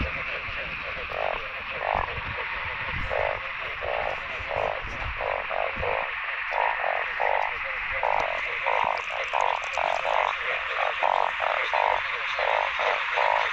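Frogs croak in a fast, regular pulsing chorus at night in a rural wetland, loud and continuous over a steady background hiss of insects.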